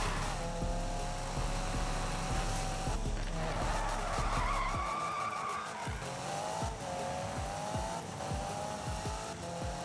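Drift car tires skid and squeal in the Need for Speed 2015 video game, with engine revving and downshift pops throughout. Long, loud tire screeches rise and fall over a steady motor drone.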